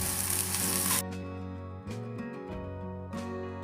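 Cucumber thalipeeth sizzling on a hot pan as oil is drizzled around it, a loud, steady hiss that drops off after a second, leaving a softer crackle with a few brief clatters.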